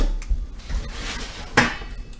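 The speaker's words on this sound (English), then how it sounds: "let's throw all of that in the hot pan again" Sliced ingredients tossed into a hot pan with a clatter of pan and utensils, a sharp scrape-and-hiss burst about midway, and softer metallic knocks around it.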